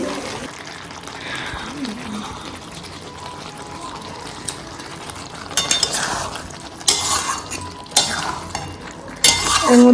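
Potatoes and spices being stirred and sautéed in oil in a kadai for Bengali aloo dum: a soft sizzle under steady scraping and utensil clinks against the pan, with sharper metallic knocks growing louder toward the end.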